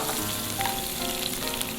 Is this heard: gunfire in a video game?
no